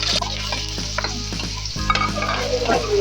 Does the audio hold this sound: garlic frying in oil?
yes